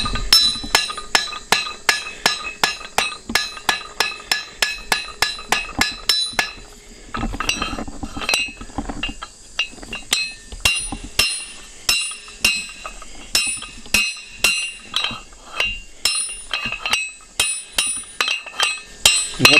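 A blacksmith hammers a point onto 1/4 inch round steel stock, a long run of sharp, ringing metallic strikes in a steady rhythm, broken by a short pause and a few irregular taps before the regular blows resume, close and loud.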